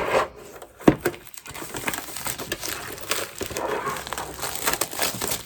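Plastic packaging crinkles and crackles as a box of 3D printer filament brushes is opened by hand. The close, irregular rustling runs throughout, with one sharp snap early on.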